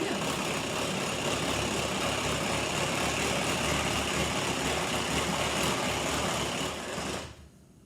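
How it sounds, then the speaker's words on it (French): An electric hand mixer whips egg whites into stiff peaks, a loud, steady high-pitched whirring buzz running continuously before cutting off abruptly near the end. "on va monter les blancs en neige"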